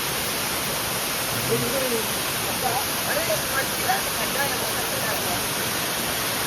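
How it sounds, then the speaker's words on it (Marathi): A waterfall in a Konkan village forest roars in a constant, dense rush of falling water, with faint voices barely audible beneath it. "वरती हा 12 मैल वाहणारा धबधबा आहे"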